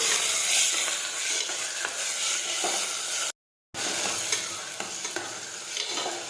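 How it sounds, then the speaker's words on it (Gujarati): Chopped potatoes and tomatoes sautéing for a Gujarati chola batata curry, with a loud, continuous hissing sizzle and repeated stirring scrapes. A brief gap of silence falls midway before the frying resumes. "બટેટા અને ટમેટા નાખી દઈશું હવે આપણે સાતળી લઈશું"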